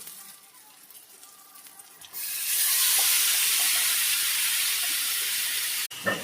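Marinated chicken dropped into a pan of fried onions and chopped tomato, with a quiet start and then a sudden loud, hissing sizzle that holds steady until a brief break near the end.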